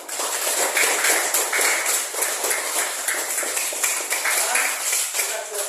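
A classroom of students clapping for their groups, a lively close patter of many hands with uneven rhythmic pulses, continuing steadily, and no talk on top.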